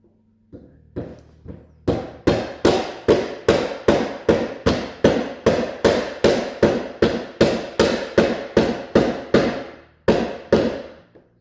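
A hammer or mallet pounds vinyl longboard flooring planks into place indoors, a steady run of about twenty sharp, loud knocks in quick regular rhythm, with a brief pause near the end before a few final blows.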